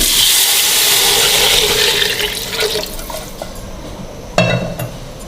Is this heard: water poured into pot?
yes